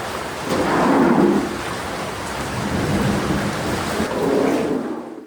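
Heavy rain pours steadily on a roofing site while low thunder rumbles roll through twice, close and loud, with no voices.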